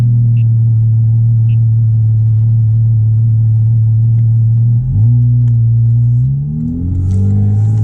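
A Porsche Cayman GT4 RS with PDK gearbox holds a loud, steady droning engine note close up, then near the end the pitch dips and climbs in quick stepped revs.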